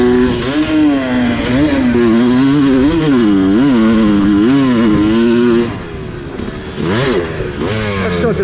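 A motorcycle fitted with a Lectron Billetron carburetor is ridden hard, its engine loud and close, revving up and down in rising and falling surges with brief throttle blips near the end.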